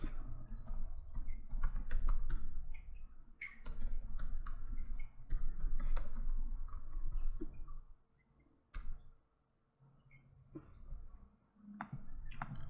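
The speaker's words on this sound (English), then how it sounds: "I'm actually typing here in the text editor." Rapid, irregular keyboard typing clacks up close, in bursts with a couple of brief pauses before the tapping resumes.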